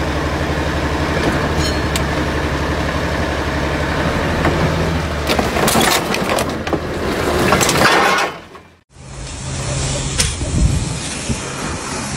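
A tractor engine idles with a steady, loud, close rumble. The sound cuts out briefly near the end, then carries on at the same level.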